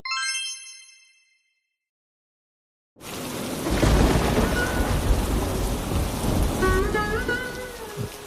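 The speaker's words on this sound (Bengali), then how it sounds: "যেভাবে বৃষ্টি পড়ছে বানের জল তো ঘরে ঢুকে যাচ্ছে গো" Heavy cartoon rainstorm with thunder, a dense steady roar of downpour that bursts in after a brief chime-like tone and near-silence, with faint whistling tones rising over the rain toward the end.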